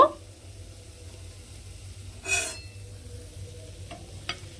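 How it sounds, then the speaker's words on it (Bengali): A sago chop deep-frying in hot oil gives a faint, low sizzle, with a short louder burst of bubbling about halfway and a few small clinks near the end; no talking. "এইভাবে কিন্তু উল্টে পাল্টে আমাকে খুব ভালোভাবে লাল করে চপটা ভেজে নিতে হবে"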